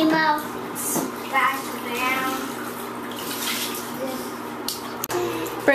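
Water splashes and sloshes in a bathtub as a child plays with a Nemo toy, with steady watery noise and a few brighter splashes, while a child and a parent talk over it.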